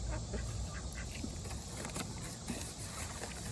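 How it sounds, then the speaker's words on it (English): Ducks at a busy duck pond give scattered quacks and honks against a loud, constant outdoor wash of background noise, the calls short and moderately close, repeating irregularly throughout. "Wow, there's ducks everywhere."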